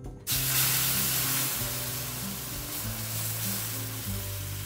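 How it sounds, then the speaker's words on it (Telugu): Boiled milk is poured in small batches into fried semolina in a hot pan for suji kheer, setting off a loud, steady sizzle and hiss that begins abruptly and continues throughout, with no talk. "ఇప్పుడు ఈ ఫ్రై అయిన రవ్వలో మనం బాయిల్ చేసుకున్న పాలని కొన్ని కొన్నిగా యాడ్ చేసుకుందాము"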